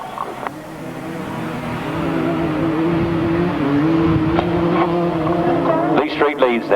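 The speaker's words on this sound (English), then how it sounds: "Lee Street leads on the Kajiva, flat out of that turn." Grasstrack motorcycles, including a 125 class Kawasaki, race flat out around a track at a 1994 Gatwick meeting, a sustained droning engine whine rising and holding under an announcer's commentary.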